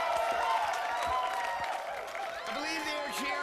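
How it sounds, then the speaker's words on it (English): An audience at the E3 2006 convention claps and cheers in a noisy hall, a sustained wash of applause with voices talking over it. "I believe they are cheering for the same thing that I was so stunned with"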